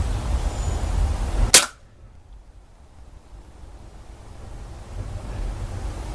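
A single sharp crack from a Beeman 1357 air pistol fired at a Polo mint target, close and loud over a steady outdoor wind hiss, followed by quieter ambience.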